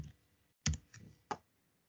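A computer keyboard is used to enter a password, giving three sharp, close clicks spaced across a short, otherwise quiet stretch.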